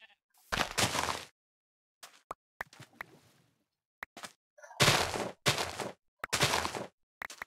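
Sheep in Minecraft bleat in several loud, close, wavering calls separated by silences, mixed with short clicks and game sounds.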